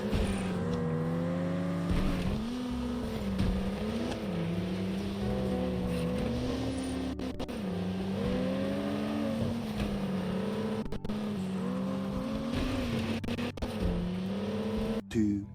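A racing video game played as bumper cars: a buzzy engine drone rises and falls steadily throughout, with a few sharp knocks from collisions breaking in.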